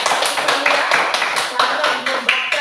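A classroom of students claps hands in a quick, steady rhythm of sharp, close claps lasting a few seconds, with voices mixed in.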